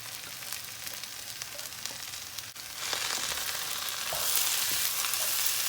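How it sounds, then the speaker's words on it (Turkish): Tomato paste, eggplant, peppers and rice sizzle and fry in a hot pan, a steady crackling hiss that grows louder as they are stirred, with occasional scraping. "Salçayı, patlıcanı, biberi, komplesini, pirinci Şöyle karıştıra karıştıra bir kavuruyoruz."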